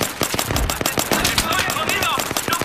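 Rapid automatic gunfire from a Battlefield 3 match, dense bursts of machine-gun shots running throughout, mixed with game sound effects and a voice talking over the action.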